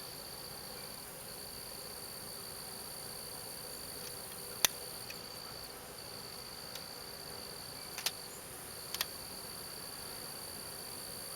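Honey bees at a hive buzz around a beekeeper's gloved, honey-smeared hand during work on a broken-frame nuc, a faint steady drone with a few brief sharp ticks and no talking.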